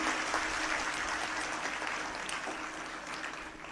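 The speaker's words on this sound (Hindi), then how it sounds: "आप तालियां बजा रहे हैं" Fairly faint, steady clapping from an audience at a community motivational talk, a continuous wash of applause heard from a distance and lasting through the clip with no talk.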